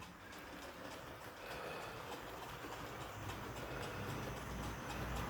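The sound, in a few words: Triang Hornby model train running on track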